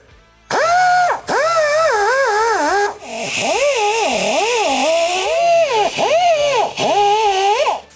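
A wire wheel on a pneumatic grinder scrubs the shorty headers of a Fox Body Mustang, giving a loud, close whine that rises and falls as pressure shifts, broken by short pauses.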